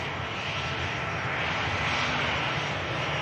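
A Saudia airliner lands at Manchester Airport, its engines giving a loud, steady roar that fills the whole stretch with no breaks.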